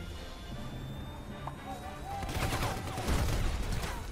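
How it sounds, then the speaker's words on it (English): Gunfire in a shooter video game as the player is hit from behind by a soldier, a dense crackling burst of shots building up over the second half, loud and close. "I'm getting shot from behind"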